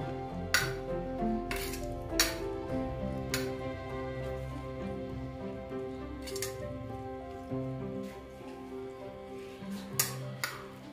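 Fried okra being stirred and mixed in a cooking pot lined with a banana leaf, giving repeated metal clinks and scrapes of a spoon against the pot at irregular intervals, close and moderately loud, with a low steady cooking hum underneath and no talk.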